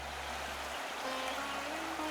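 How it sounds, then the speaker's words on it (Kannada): A stream babbles steadily through a green, flower-filled open landscape, a continuous close wash of running water over a low hum, with no voices. "ತೊರೆ ಜರಿಗಳ ಮಧುರವಾದ ಕಲರವ"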